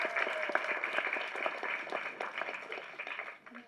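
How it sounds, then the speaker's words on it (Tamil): A crowd claps together at a Tamil school event, a fairly distant, steady patter of many hands that fades slightly toward the end. "கைத்தட்டுங்க அவங்களுக்கு."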